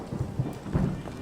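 Rain with low rumbles of thunder in Skyrim Special Edition, a steady wash of rainfall under a few soft, muffled thunder swells, with no voices.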